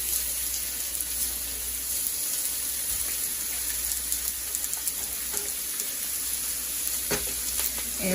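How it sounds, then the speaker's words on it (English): Steaks sizzle and crackle in a hot pan, a steady, close hiss with small pops running throughout, heard alone with no talking. "You hear the nice sizzle on it."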